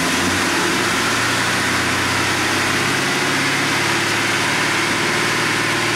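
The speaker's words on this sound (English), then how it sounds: "after revving the engine to 1500 to 2000 RPMs" A car engine idling steadily during an alternator test, revved up to about 1500 to 2000 RPM, a loud continuous low rumble with a slight rise in pitch and no pauses.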